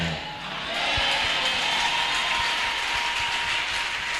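A church congregation applauds and cheers in acclaim of God, a dense, sustained wash of clapping and crowd voices filling the room at steady loudness throughout.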